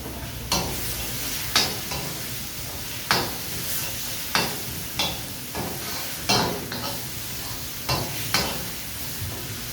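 Green chillies sizzle steadily in a hot pan while a spoon scrapes and stirs them in a series of regular, sharp strokes, each rising briefly above the constant frying hiss.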